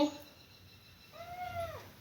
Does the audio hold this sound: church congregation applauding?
no